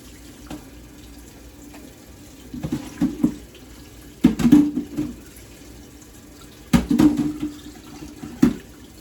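A kitchen tap runs in bursts while something is washed out in the sink, water splashing and gurgling in several uneven spurts close by.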